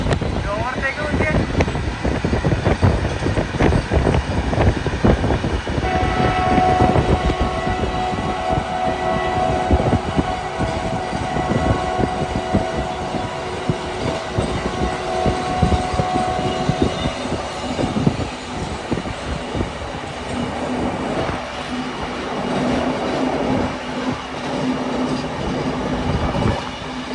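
A passenger train overtaking another train on an Indian railway line near Kishangarh station, between Jaipur and Ajmer: continuous loud rumble and rattling of wheels and wagons throughout, with a steady whine and passing tonal hum, and brief voices.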